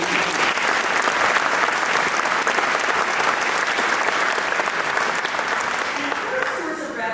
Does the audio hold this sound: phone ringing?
no